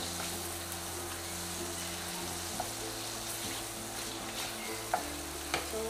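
Butter melting in a pan on an induction cooker set to its lowest heat gives a steady, quiet sizzle with faint stirring and a few small clicks near the end, and no one talks.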